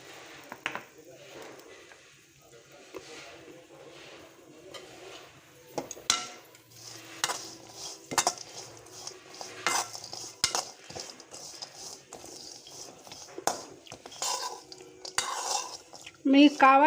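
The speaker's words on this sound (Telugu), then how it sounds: "కొబ్బరి వేసి వేయించుకుందామండి" Grated coconut is fried in a pan for coconut tomato chutney, with a spoon scraping and clinking against the metal in irregular close strokes, over a faint sizzle, while someone talks.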